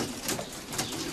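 Ardennes racing pigeon in a loft, soft cooing and wing flutters at close range, steady and moderately loud over roughly a second with no speech.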